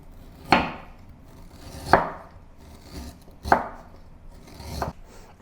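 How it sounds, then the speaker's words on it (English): A knife cuts ginger into thin slices on a board: four separate, crisp chops spaced about a second and a half apart, each with a short thud, close up with no voices. "Cut the ginger into thin slices."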